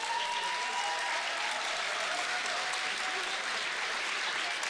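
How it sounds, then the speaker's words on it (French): An audience at a sports competition applauds the men's teams, a steady, even wash of clapping from a crowd that holds at moderate volume throughout, with a faint voice in the background. "Une bonne main d'applaudissements pour nos équipes masculines"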